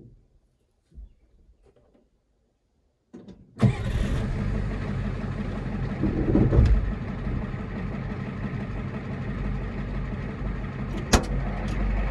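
Ford F250 with a 6.9 IDI diesel, fitted with a replacement starter, cranks and catches at once, then settles into a loud, steady, clattering idle with a brief swell in revs partway through; faint knocks come before the start.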